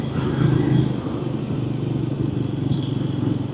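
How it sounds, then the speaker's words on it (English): A Triumph Scrambler 400X ridden two-up with a pillion passenger in Staffordshire, its engine giving a steady, close low rumble that holds at an even pace throughout. "I'm on the 400X Scrambler from Triumph"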